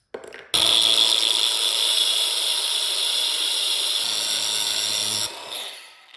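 A power tool cuts a bolt off right at its head on a C4 Corvette L98 job, giving a loud, steady high-pitched grinding whine that holds for about five seconds before winding down.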